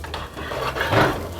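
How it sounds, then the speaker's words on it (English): Food sizzling and scraping in a pan on a stovetop while cooking for jollof rice, a steady soft hiss with light rubbing and stirring noises throughout, close and moderately loud. "we're gonna saute those for a few minutes"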